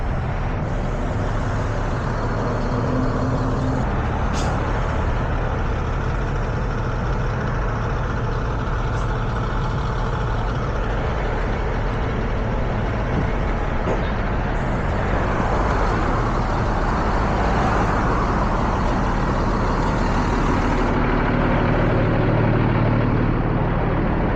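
A tow truck's diesel engine runs close and loud for an extended stretch, idling and rumbling as it moves into place near a wrecked 2024 Honda in a roadside ditch, steady with slight swells and no clear talk.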